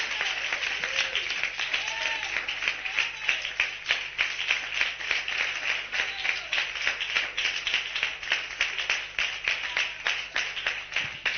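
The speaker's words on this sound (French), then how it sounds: "Donnez une acclamation, Seigneur." A church congregation in Benin claps in acclamation, a dense, steady wash of many hands that holds at an even level for the whole stretch, with no voices standing out.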